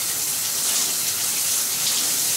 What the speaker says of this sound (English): one of the good things about having a detachable shower head